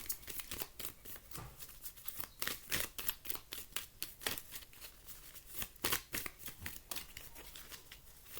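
Oracle cards being shuffled by hand during a reading, repeated soft papery riffles and flicks in irregular bursts, close and quiet with no talking.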